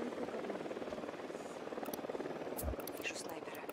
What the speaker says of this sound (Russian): Вертушка единства на подлете.